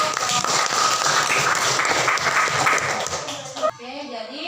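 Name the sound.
audience clapping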